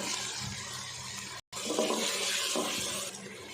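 Water poured into a hot pan of browned chicken, onion, ginger, garlic and tomato while cooking a gobi chicken curry (salan), a steady close rushing splash with a brief break partway through.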